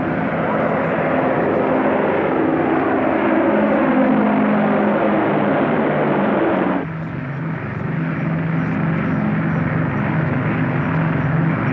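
A 1950-era airplane on approach to a runway for landing gives off a loud, steady engine roar that drops in tone partway through, heard close and continuous.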